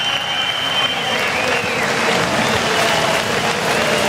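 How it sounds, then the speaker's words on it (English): A crowd cheers and claps steadily at a surfing contest, a continuous wash of loud applause lasting throughout. "Tyler Wright cheering on her buddy Maddie Wilkinson there with Nikki Van Dyke"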